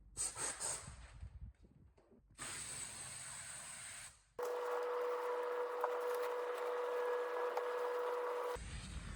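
A spray gun lays black base coat paint onto a BMW X1 in several close, loud bursts of hissing air. Two shorter sprays come first, then a long steady spray with a faint whistling tone, and a final burst begins at the end.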